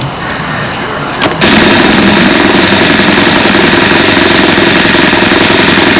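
Saito four-stroke model airplane engine during break-in, held at low throttle; a brief starting burst then a loud, steady, rapidly knocking run, close to the microphone.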